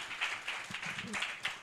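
A church congregation applauds Pastor Aaron, a dense patter of many hands clapping at moderate loudness, with a brief low voice murmuring underneath.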